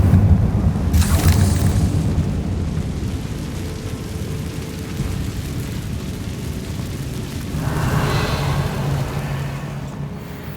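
A Confringo explosive spell goes off in the Hogwarts Legacy video game, with a crackling blast near the start and a second rumbling burst later over continuous low background noise.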